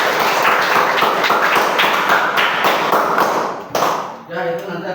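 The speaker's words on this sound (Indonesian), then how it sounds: "Ya, tepuk tangan." A classroom of students claps together in a dense, loud burst of applause that lasts a few seconds before quickly fading, with voices heard as it dies away.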